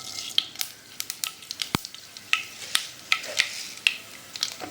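Mustard seeds crackle and pop in hot oil for tempering a ridge gourd side dish, sharp irregular snaps over a steady sizzle, close and fairly loud.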